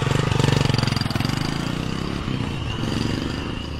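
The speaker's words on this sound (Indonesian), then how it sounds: "ada suara motor dengan knalpot yang sangat bising" A motorcycle with a very loud exhaust rumbles close by, a rapid, pulsing, throaty engine note holding steady and heavy throughout, harsh and booming.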